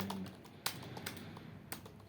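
Typing practice on a computer keyboard, a quiet scatter of light key clicks with a few sharper, louder taps standing out, heard close and alone without speech.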